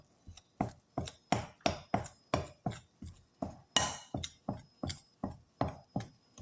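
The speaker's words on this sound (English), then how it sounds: "I'm gonna just chop this butter up in it" Butter being chopped into flour for quick mini biscuits, a steady run of about fifteen distinct knife chops against the board at an even rhythm, close and clear with no talking.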